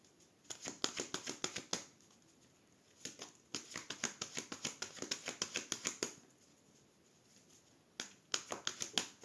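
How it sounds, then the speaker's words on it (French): Tarot or astrology cards being shuffled by hand in quick bursts of crisp riffling snaps, three runs separated by short pauses, close and moderately quiet with no talk. "Je mélange mes cartes."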